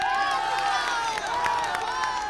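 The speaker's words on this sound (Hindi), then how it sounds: "तालियां बजनी चाहिए भाई।" Dense crowd noise with a steady wash of applause and cheering, loud and continuous throughout, with no clear individual voices standing out.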